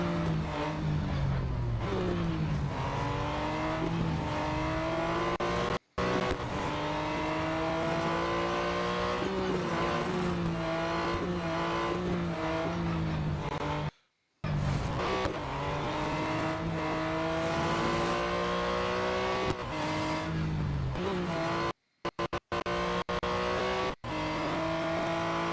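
A race car engine drones and revs continuously through a lap of Le Mans in the video game Real Racing 3, rising and falling with gear changes, with a few brief dropouts to silence.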